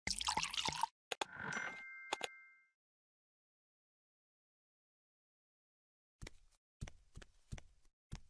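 Alcohol poured from a bottle onto cloth bandages in the point-and-click adventure game Dead Synchronicity: a brief liquid splash and trickle, followed after a silence by a few sharp knocking clicks.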